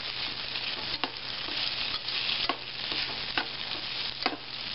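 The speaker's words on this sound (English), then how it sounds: "Now I'm going to mix this up real good." Cooked rice being stirred into a pot of goulash made with home-canned tomatoes, a spoon scraping steadily with several sharper knocks against the pot over a soft constant sizzle, close and alone.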